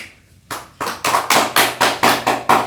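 A classroom audience claps briefly for a classmate during a microteaching session, starting sparse and building into a short burst of rhythmic, fairly close hand claps with no talking.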